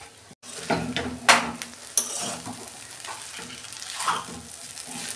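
An egg is added to chowmein frying in a pan, giving a moderate sizzle under irregular stirring clatter and scrapes from a utensil, with no talking.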